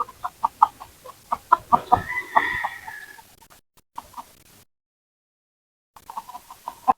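Native chickens clucking in a quick series of short, close calls, followed by a brief silence and then more clucks.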